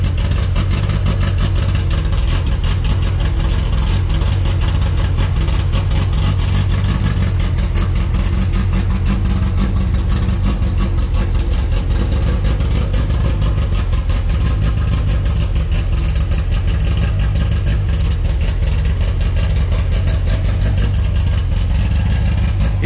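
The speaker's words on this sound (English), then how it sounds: "Man, that engine just sounds powerful." Steady, loud rumble of a car engine fitted with Weber IDF carburetors running continuously near the microphone for over twenty seconds, idling with slight rises in revs and a deep low-end drone.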